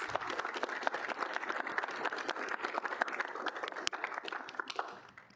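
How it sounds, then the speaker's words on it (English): At a student senate meeting, the room gives senate members a round of applause: dense, continuous clapping from a small crowd that holds steady and then tapers off at the end. "Please give them a round of applause."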